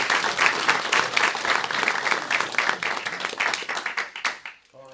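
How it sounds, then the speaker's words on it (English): Lively audience applause for a speaker at an economic update event in a small room: dense, loud clapping that fades out near the end as a voice starts. "Let's give Paul a big round of applause."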